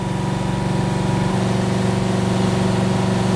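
A car engine idles through a cylinder power balance test, giving a steady, loud, rhythmic hum with a constant pulsing beat and no voices over it.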